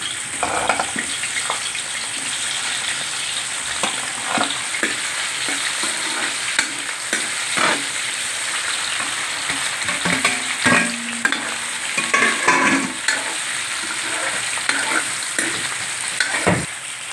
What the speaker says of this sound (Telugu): ఉడకబెట్టిన దుంపలనే వేయిస్తున్నాను